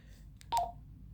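A digital handheld radio's keypad gives one short faint beep followed by a louder, clear electronic tone while being programmed, over a low steady background hum.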